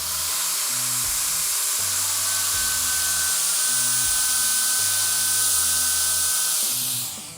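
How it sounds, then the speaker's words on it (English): Steady loud grinding hiss of a sanding wheel sharpening the leading edge of a rotary mower blade, continuous and close for several seconds before tapering off at the end. "When we're sharpening our blades, you can see that this here is just a sanding wheel"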